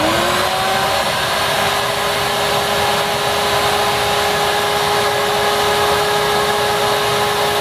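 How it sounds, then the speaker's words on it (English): A shop vac connected to an air conditioner's drain line runs steadily, a loud, continuous whooshing roar with a steady motor whine that rises slightly at the start and then holds. "I went ahead and turned on the shop vac for about 2 to 3 minutes"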